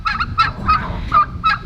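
Farm turkeys call loudly and close by, giving about five sharp, honking yelps in a quick, uneven series.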